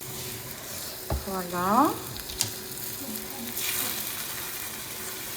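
Cream stirred into a hot pan, a steady sizzle with scraping stirs underneath, while someone speaks a word and the cooking noise carries on around her.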